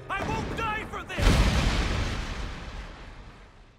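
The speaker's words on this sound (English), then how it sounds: "That was just a dramatic explosion." A dramatic explosion in the anime Fullmetal Alchemist: Brotherhood gives a sudden loud boom that rumbles and fades over a few seconds, preceded by a character's shouting voice.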